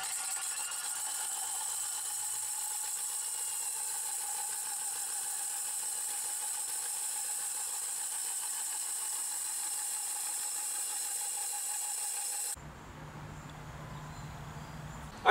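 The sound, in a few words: diamond-coated hole saw drilling through brick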